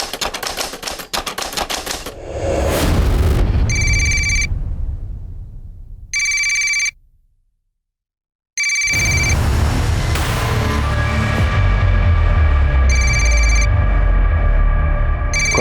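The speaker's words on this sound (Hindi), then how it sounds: "कब से फोन बज रहा है" A telephone rings in a Hindi TV crime drama, repeated bright electronic bursts separated by pauses, loud and clear over a dense, noisy dramatic background, with no talk.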